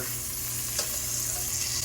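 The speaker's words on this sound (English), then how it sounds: "Obviously fish don't take long to cook, especially when you frying stuff" Breaded fish sizzling and crackling in hot oil, a steady bright fizz with small pops, close up and uninterrupted, no talking.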